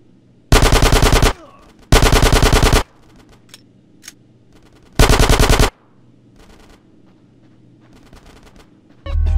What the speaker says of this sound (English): Get some suppressing fire in there!